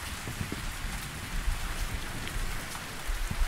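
Steady rain falls in a survival island video game, a dense, even hiss of drops with scattered louder patters throughout, moderately loud with no voices.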